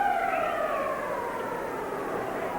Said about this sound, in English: There's the siren to end the second period.